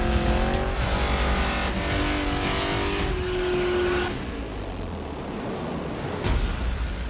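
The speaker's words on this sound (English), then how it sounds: "We want to allow for the entrants that want to let loose a little bit, turn the tyres, make some smoke and have some fun." A car doing a burnout at Summernats, its engine roaring loud and close with rising revs, tyres squealing, then the roar easing off before a short surge near the end.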